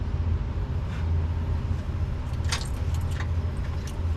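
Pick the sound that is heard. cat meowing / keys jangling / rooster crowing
keys jangling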